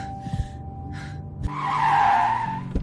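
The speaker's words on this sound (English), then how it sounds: "The car pulled over." A car skidding as it pulls over to the roadside, a rising tire screech that swells and fades over about a second, preceded by brief breathy sounds and a low engine hum.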